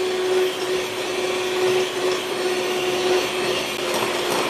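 An electric hand mixer whisks egg whites for a black glutinous rice chiffon cake as sugar is gradually added, giving a steady, close, continuous motor whir with a faint high whine and no talking.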